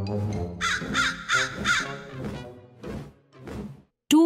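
Cartoon crow cawing in a series of loud, harsh calls, about four bursts in quick succession, followed by a sharp thump at the end.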